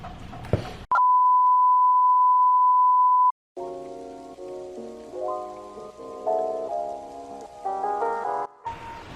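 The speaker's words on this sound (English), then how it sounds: "excuse me for the noise, it's like a torrential downpour" A steady electronic beep sounds for a few seconds, then heavy torrential rain hisses continuously beneath tonal humming, loud and unbroken.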